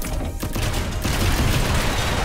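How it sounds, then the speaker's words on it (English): Sustained machine gun fire from a mech in the Front Mission 2 Remake video game, a dense, continuous rattling burst that runs loud and steady for the full stretch, with no talking over it. "Let's just kill him with the machine gun."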